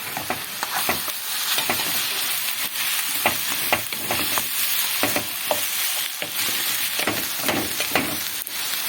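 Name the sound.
ground meat being stirred and fried in a pan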